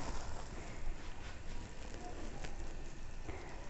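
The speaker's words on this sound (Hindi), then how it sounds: "अब मैं रोटी को ऐसे उठा कर कच्ची वाली साइड तवे के ऊपर रख दूँ" Besan roti, raw side down, laid on a hot tawa, giving a steady broadband sizzle and crackle that holds evenly throughout, close and fairly quiet.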